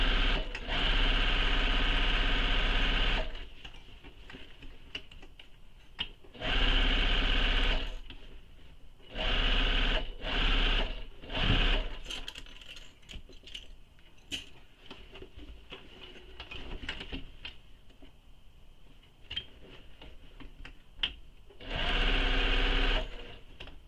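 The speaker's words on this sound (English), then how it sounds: "When you're stitching around where those side seams are, make sure you're pressing the seams open" Sewing machine stitching the side seams of a handbag, several loud runs of fast whirring stitches broken by pauses and small clicks, close up with no talking.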